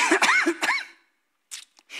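A pastor coughs during a church sermon: a close burst of several rough coughs, a pause, then a few softer throat sounds.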